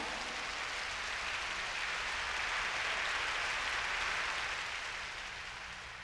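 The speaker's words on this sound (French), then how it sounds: "Ne m'applaudissez pas" Audience applause in a church congregation, a dense steady wash of clapping that holds evenly for several seconds and then eases slightly at the end, with no voices over it.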